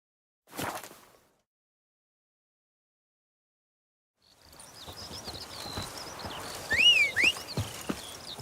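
Hooves of Roach, a horse in The Witcher 3: Blood and Wine, clip-clop at a walking pace over outdoor ambience with crickets and birds, after a short isolated thump and a stretch of silence.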